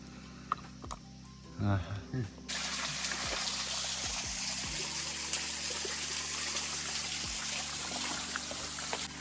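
Steady trickling water flows continuously, close by, with a few low thumps and a brief voice early on.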